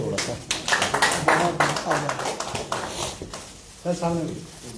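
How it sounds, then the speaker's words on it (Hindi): Audience applause welcomes a guest at a gathering: a steady spatter of clapping through the first few seconds, with someone speaking over it throughout. "तालियों से इस्तकबाल करें।"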